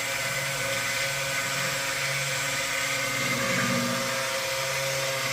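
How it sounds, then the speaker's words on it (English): An immersion blender runs in a pot of lard soap with oatmeal, giving a steady, close, continuous motor whir for the whole stretch with no talking. "Let's get our immersion blender in here."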